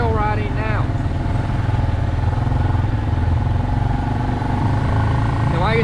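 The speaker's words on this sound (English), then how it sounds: "We are starting the trail riding now." An ATV engine on a night trail ride drones loud and steady throughout, with a deep continuous rumble and a brief rising whine near the start and end.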